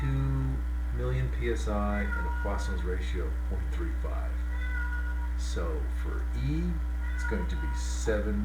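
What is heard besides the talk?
domestic cat meowing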